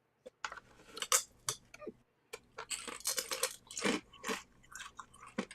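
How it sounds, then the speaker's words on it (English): Someone biting and chewing a crunchy dried bell pepper snack close to the mic, sharp crackling crunches in irregular bursts separated by short pauses. "You stick it in your mouth and chew."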